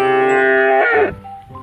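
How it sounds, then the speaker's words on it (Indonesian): A bull in Jurassic World Evolution 2 gives one long, loud, close moo that swells and then drops off into a low grunt at the end, with no voices. "Yang ini sapi. Sapi jantan teman-teman."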